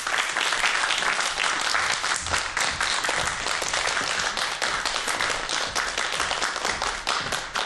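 Steady, dense audience applause as an NVIDIA branch manager is welcomed onto a stage at a science lecture event, loud and continuous with no talking over it.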